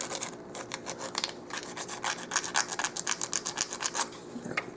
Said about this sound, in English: Now I'm going to take this one and I'm going to sand off one end.